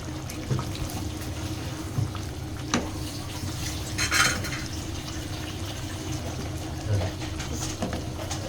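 Potatoes being stirred into a chicken curry in a home-kitchen pan, with soft scraping and stirring under a steady low sizzle, a few louder clacks of the utensil, no talk.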